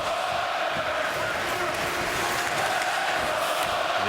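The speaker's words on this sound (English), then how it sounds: "A let's go Oilers chant up from the crowd." A hockey arena crowd at an NHL game between the New York Rangers and Edmonton Oilers raises a rhythmic "let's go Oilers" chant, a steady, dense roar of many voices filling the building throughout.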